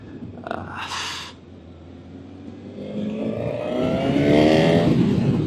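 A 2025 Honda CB1000 Hornet motorcycle engine revs up, its pitch climbing steadily into a loud, rising whine after a brief quieter start.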